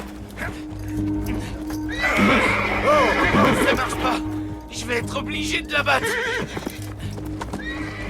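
A horse neighs loudly with a long, wavering whinny while hooves clop and shuffle nearby, and someone speaks French over the commotion.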